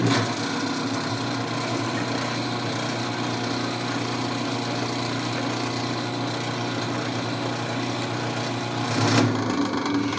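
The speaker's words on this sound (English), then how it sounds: "Let's drill 6 holes at once." A drill runs steadily and loud, boring six holes at once through steel for a brush guard on a Kioti DK5310se tractor. The tone holds constant, then rises briefly near the end.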